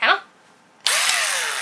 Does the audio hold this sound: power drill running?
yes